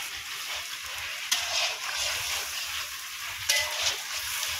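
Mutton fat sizzles and puffs up in a black iron wok, a dense, even frying hiss up close with two sharper clicks of stirring against the metal.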